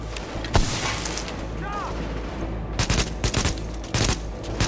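Gunfire in Tom Clancy's The Division video game: a sustained roar of shooting with clustered loud bursts and sharp shots, most of them toward the end.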